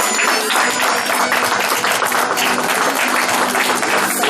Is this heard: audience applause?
yes